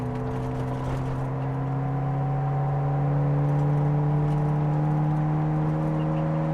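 Nissan GTR R33 engine idling down after the throttle is released, a smooth steady hum settling at low revs, close and even throughout.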